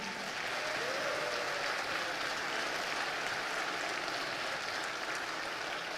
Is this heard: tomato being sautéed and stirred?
no